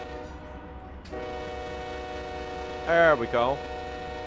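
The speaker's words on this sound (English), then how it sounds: "I think we have a street coming up, so I'm just going to honk the horn" A locomotive horn in Run8 Train Simulator sounds in a short two-part blast over the steady hum of the running engine, with someone briefly speaking beforehand.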